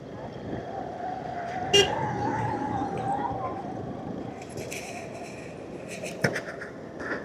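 Pune road traffic hums in the background during a morning bike commute, with short car horn toots near the start and end cutting through the steady engine noise.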